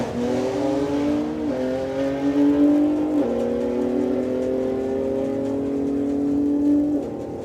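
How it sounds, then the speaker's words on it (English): A doorslammer drag car makes a pass at a 2024 drag racing meet, its loud engine roaring and climbing in pitch through several gear changes, sustained and close with no talking. "Josh Holmes is out in front making a very nice pass."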